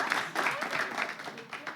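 Audience applauding in a hall at a Togolese event, a steady wash of clapping hands with some crowd noise, moderately loud and continuous throughout.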